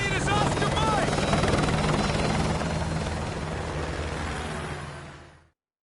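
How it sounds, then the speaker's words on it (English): A military helicopter's rotor roar in a video game scene stays loud and continuous, a dense, throbbing wash that holds for several seconds before cutting off abruptly. "Use my helicopter."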